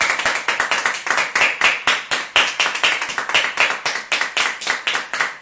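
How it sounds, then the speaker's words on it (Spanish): A congregation at a church service claps in a steady rhythm, close and loud, with sharp, evenly spaced hand claps continuing throughout without speech. "¿Cuánto le dan un aplauso al Señor Dios de los cielos?"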